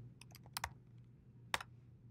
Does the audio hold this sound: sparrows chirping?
no